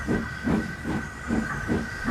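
A steam engine pulling goods trucks puffs rhythmically, with regular chuffs of hissing steam about twice a second over a continuous rumbling background, steady and fairly close.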